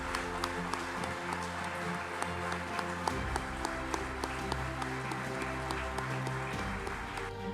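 An audience claps for Mrs. Naik at a Larsen & Toubro flag handover event in Surat, steady crowd applause with distinct sharp claps standing out over a humming, music-like background.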